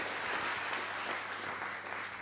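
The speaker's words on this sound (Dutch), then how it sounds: "Nog één keer applaus voor jouw verhaal." Audience applause at a beaver symposium, steady dense clapping from a crowd filling the room, fairly even throughout with no talk over it.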